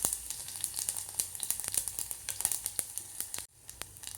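Mustard seeds, cumin, garlic and ginger paste sizzle and crackle steadily in hot oil for an aloo raita tempering, with close, sharp pops scattered throughout and a brief drop near the end.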